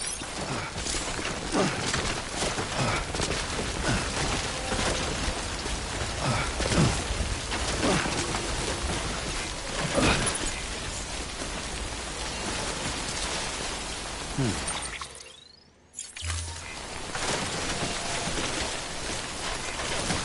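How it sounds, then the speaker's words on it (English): Steady timefall rain in the video game Death Stranding, a dense broadband hiss of drops pattering on surfaces that runs loud and continuous, with a brief dropout near the end before the downpour resumes. "Don't stay out in the rain any longer than you have to."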